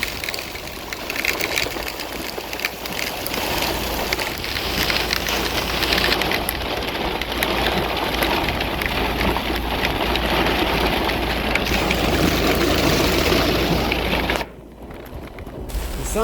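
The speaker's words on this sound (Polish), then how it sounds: "Jesteśmy w samym środku tej silnej komórki burzowej, której towarzyszą naprawdę silne porywy wiatru." A severe thunderstorm supercell with very strong wind gusts and driving rain makes a loud, steady, dense rush close to the microphone, dipping briefly near the end.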